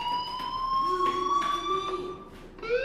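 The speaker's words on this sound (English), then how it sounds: "Hey, do you hear that fire alarm?" Fire alarm in the video game Life Is Strange, a steady electronic siren tone holding pitch with a few stepped changes, loud and continuous without talk.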